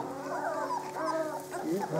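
Small mastiff puppy yips and whimpering barks, high and wavering, with people talking over them close by.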